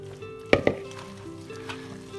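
Minced meat mixed with tomato, onion, green pepper and parsley being stirred in a bowl: two sharp knocks of a utensil against the bowl, then soft wet squelching and scraping, close and quiet.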